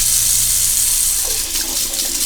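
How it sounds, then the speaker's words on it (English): Hot water runs steadily from a tap into a sink, a dense continuous splashing hiss that stays loud and close throughout, with no talking. "So let's start some hot water running."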